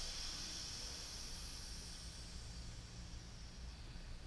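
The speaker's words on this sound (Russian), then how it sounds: "сбросить пар" Steam vents from a multicooker after cooking, a continuous loud hiss with broad noisy rush that stays fairly even throughout, with no talk.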